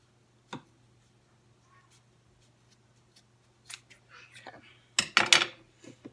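Scissors cutting craft material for a homemade Santa light, a single snip early on, then a few louder crisp snips and rustling toward the end, quiet between cuts with no talk.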